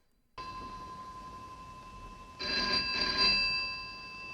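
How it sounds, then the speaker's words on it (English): A telephone rings twice in a hallway in Hitchcock's Dial M for Murder: a short bright ring followed by a longer, louder ring, each with a sustained metallic bell tone, heard clearly with no talking. "Phone could be heard in the hallway."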